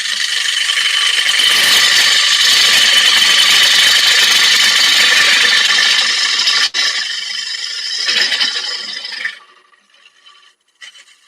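A spindle or bowl gouge cuts spinning wood on a lathe with a loud, steady hiss and scrape for about nine seconds, then the cutting stops and the lathe winds down.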